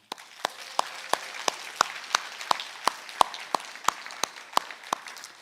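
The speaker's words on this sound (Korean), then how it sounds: "격려의 박수와 또 하나님께 감사의 박수를 올려드리겠습니다." A church congregation at a Sunday worship service claps, with sparse, evenly spaced sharp claps standing out over a soft background of scattered applause.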